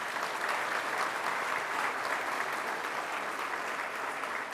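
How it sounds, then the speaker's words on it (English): An audience at a ribbon-cutting ceremony for a wellness center claps in a sustained, even round of applause, broad and continuous throughout with no voices over it. "Chancellor Dr. John King, let's give him another round of applause."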